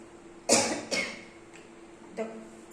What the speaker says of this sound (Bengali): খুশখুশি কাশি হচ্ছে